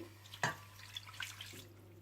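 A small amount of water pours into a pot of mutton chops with ginger-garlic paste, butter and salt, quiet and brief, with a faint splash and a few drips.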